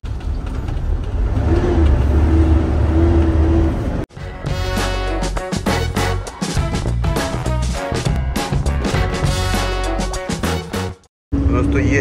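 A Tata Tipper 2830 truck's diesel engine rumbles at idle, then after a brief cut it revs repeatedly in loud surges under ongoing talk and background music, with a short dropout near the end.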